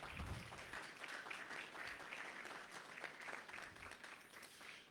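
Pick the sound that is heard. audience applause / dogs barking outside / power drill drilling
audience applause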